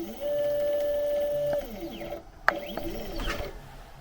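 A Sainsmart Genmitsu 4040 Pro CNC router jogs its Z axis downward, giving a steady stepper-motor whine that holds for over a second, then a sharp click and shorter, rising and falling motor tones, fairly quiet with no talk.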